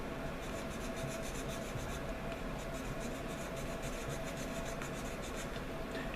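A knife cuts small notch wedges into an arrow shaft, making a quiet, continuous scraping and rasping that stays steady and close without pauses.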